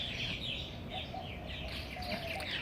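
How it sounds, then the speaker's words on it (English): Birds chirp in a backyard, a soft scatter of tweets and calls over a steady outdoor hiss with no voices. "It's real nice, listening to the birds chirp."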